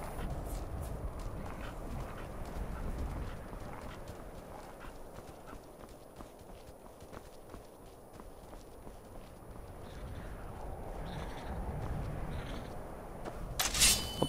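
Horse hooves clip-clop steadily through snow in Skyrim, a continuous close walking rhythm over a low ambient game bed, with a faint neigh near the end.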